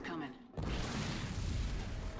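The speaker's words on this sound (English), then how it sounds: "Watch out for the explosion." A large explosion in the video game Darkwatch erupts after a brief moment of quieter game sound and voices, becoming a sustained loud rumbling roar for the remaining couple of seconds.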